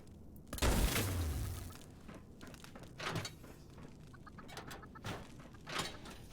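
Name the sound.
chickens clucking in Fallout 76 video game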